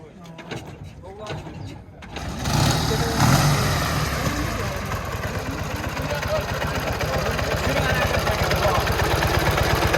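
A motorcycle engine at a bike bazaar in Gurlan, Khorezm, roars up after a couple of seconds and holds a loud, steady, throbbing drone with rising revs, while people talk nearby.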